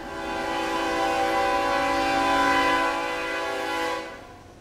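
A loud, sustained train horn blares steadily for about four seconds, its chord of tones holding before cutting off.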